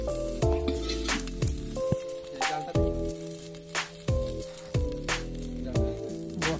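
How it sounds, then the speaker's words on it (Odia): Onions sauté in a pan for a village chicken curry, cooked outdoors at night, giving a steady soft sizzle broken by repeated scraping stirs, with a faint musical drone underneath. "ପିଆଜ କଷା ଚାଲିବ।"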